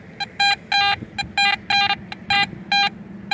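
Garrett AT Max metal detector fitted with a sniper coil, swept over a playground swing area. About nine short, loud electronic tones with brief gaps between them sit over a low rumble of ground and handling noise.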